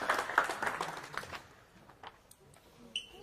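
Audience applause, a short burst of clapping that is strongest at the start and quickly thins out into a few scattered claps in a room.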